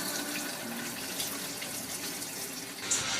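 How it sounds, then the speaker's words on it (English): A toilet flushes after being reset in a home, a continuous rushing, gurgling wash of water that holds steady, then shifts with a brief splashy surge near the end. "Flush is great."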